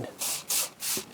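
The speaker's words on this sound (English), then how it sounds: "So we bring the scent killer gold, we spray down the blind" Scent killer spray hisses inside a hunting blind in three quick, close bursts with short pauses between them, each a sharp airy spritz.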